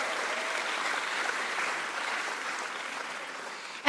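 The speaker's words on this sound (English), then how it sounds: "A round of applause for the business women in this room." Room full of people applauding the businesswomen at a women in leadership event, a dense, even wash of clapping held at steady volume throughout, with no talking.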